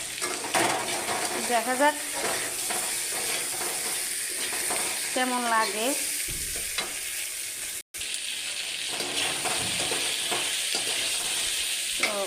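Bitter gourd fries in a pan with continuous sizzling and repeated stirring and scraping of a utensil. A person speaks briefly over the cooking sounds, and near the end there is a short gap in the sound.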